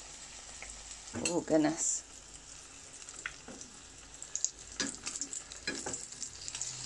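Purple sweet potato croquettes frying in a pan, four at a time, giving a steady moderate sizzle with some stirring clatter, while a person briefly talks over it.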